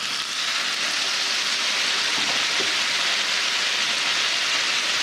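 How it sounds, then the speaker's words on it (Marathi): Boiled hot water is poured into fried brinjal masala for masala vangi, a continuous loud hissing splash that holds steady for several seconds. "आता आपण यात पाणी घालू."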